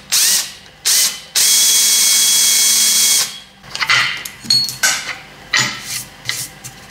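A drill boring a 6.5 mm hole through a bracket on a Bridgeport milling machine, a loud steady whine for a couple of seconds after two short bursts, then a series of uneven shorter grinding pulses as the bit cuts.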